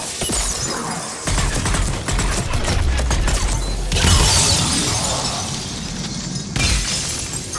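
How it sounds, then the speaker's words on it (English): A grenade goes off in Mass Effect 3 amid a firefight, a loud crashing burst with shattering debris, among repeated sharp impacts and heavy rumbling that swell and break off abruptly. "Somebody threw a grenade."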